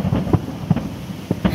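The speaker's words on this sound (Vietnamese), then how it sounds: "trời đang mưa lớn quá trời mà mình còn tiếc nè cả nhà, mình còn nghe ầm đùng" Thunder rumbles during heavy rain in Cambodia, heard as several muffled low thumps and booms at irregular intervals over a steady wash of rainfall, with no talking.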